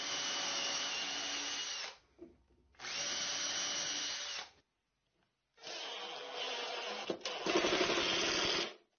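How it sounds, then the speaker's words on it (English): A power drill drives screws into a clamped wooden table in a workshop, giving three loud whirring bursts separated by short pauses, the last burst straining and grinding as the screw seats. "I'm going to get 2 clamps on there first to hold it while I get a couple of"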